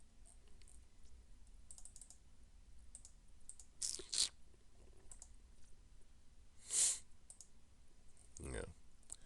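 A computer mouse clicks several times in a quiet room, as a few faint, sharp, separate taps close by, with soft talk around them.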